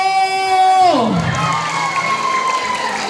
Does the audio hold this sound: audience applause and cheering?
yes